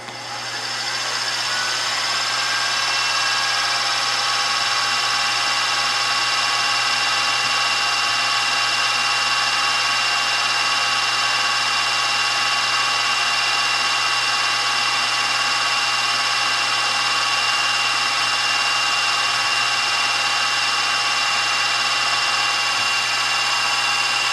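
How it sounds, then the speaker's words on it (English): A steady, high-pitched whine of a small drill with a 1/16-inch bit boring into a crankshaft, running continuously at close range, with a faint low hum underneath. "1/16 of an inch drill bit in there, and I just got to drill into"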